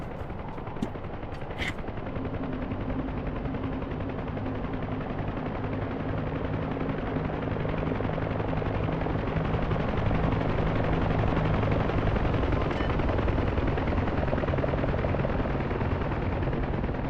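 A helicopter's engines run through an automatic start-up in the DCS World flight simulator, on a Cold War multiplayer server. A loud, steady turbine drone and whine build slowly and hold with no voices.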